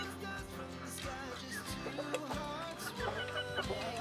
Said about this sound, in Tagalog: Maliliit ito na manok guys.